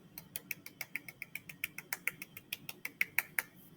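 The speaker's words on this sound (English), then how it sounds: "Your golf clap." Soft, rapid, light claps from a children's class doing a golf clap after a picture-book reading, a quick even patter of about twenty faint pats that sound crisp and thin.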